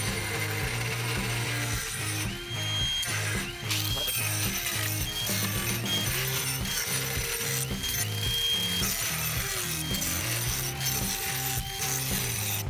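A Merlin2 rotary carving tool fitted with a green abrasive disc works over a hollowed woodturned piece, giving a steady, loud grinding whir with rhythmic scraping pulses throughout, close up and with no talk.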